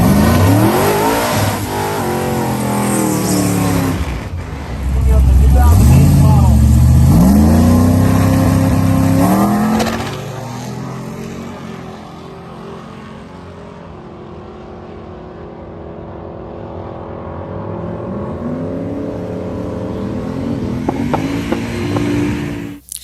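A 2008 Chevrolet Trailblazer SS drag car runs down the strip at Sick Week, its engine surging loudly through rising revs and shifts, then fading to a distant drone before another brief climb near the end.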